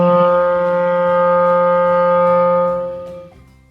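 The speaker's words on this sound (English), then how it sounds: "That note, low G, should sound like this." One sustained low G on clarinet, steady and clear, held for a few seconds before fading out.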